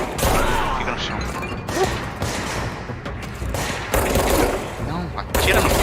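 Rapid gunfire from the video game Control, with bursts of automatic shots and impacts crackling close and loud in several volleys, while a player talks over them at moments.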